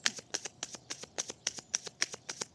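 A deck of cards is cut and shuffled close by, with crisp riffling bursts in a steady quick rhythm. Each one is short and papery, and there are no voices.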